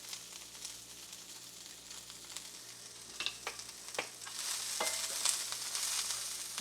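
Cabbage sizzles steadily in a hot pan for a keto beef and cabbage stir fry, with a constant bright frying hiss and a few sharper crackles and pops as it cooks down.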